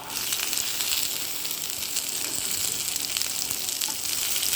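Curry leaves and onion sizzle and fry in a hot pan for masala dosa filling, a steady loud crackling hiss throughout with faint stirring and no voices.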